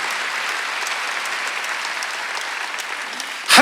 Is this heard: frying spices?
no